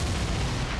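A mutant blowing itself up in the Atomic Heart mod for Garry's Mod, a broad booming blast that fills the short moment loudly with rumbling low end and no voices.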